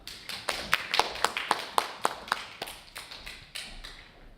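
A small audience claps to welcome a speaker, a sparse scattering of individual hand claps that thin out and fade over a few seconds.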